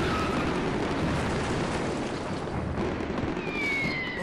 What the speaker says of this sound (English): doesn't the big rocket go off too?